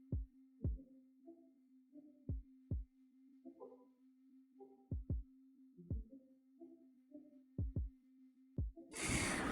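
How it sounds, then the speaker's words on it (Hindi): Heartbeat sound effect: slow, steady paired thumps, about five double beats, deep and close over a faint low hum, ending in a sudden burst of noise. "जिब्रील फ़तेह के दिल की धड़कन।"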